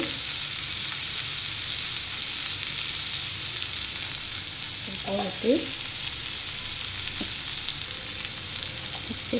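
Bottle gourd and shrimp fry with spices in a pan, a steady close sizzle running throughout, with a few brief scraping stirs of a spoon near the middle.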